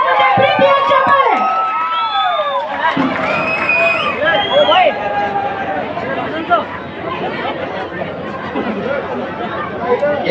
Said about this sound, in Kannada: ಇದೀಗ ನಿಮ್ಮ ಮುಂದೆ ಪ್ರೀತಿಯ ಚಪ್ಪಾಳೆ.